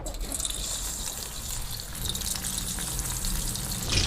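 Kanagadatha fish frying in hot oil, a steady hissing sizzle with crackling spatter that holds at an even level throughout, close and without talk.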